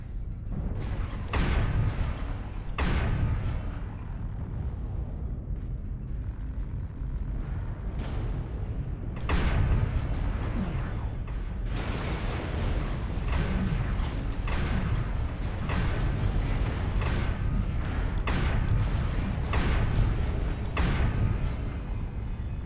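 Incoming missile barrages burst in the video game MechWarrior Online, with repeated sharp explosions hitting in clusters over a steady low rumble. The impacts come irregularly, some spaced apart and others tightly bunched, at moderate loudness.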